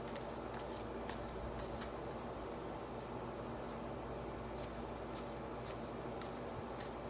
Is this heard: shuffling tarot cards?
yes